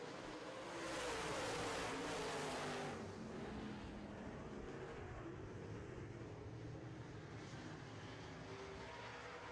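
Late model race cars roar off together at the start of a heat on an oval track, a dense engine drone swelling over the first few seconds and then holding steady at a distance.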